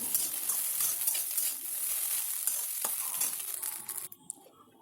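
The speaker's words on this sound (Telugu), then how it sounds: "పసుపు వేసి ఒక 5 సెకండ్లు కలిపేసి" Steady frying sizzle as turmeric is stirred into egg bhurji in a pan, with faint scraping of the spoon and a light clink near the end, with no talk.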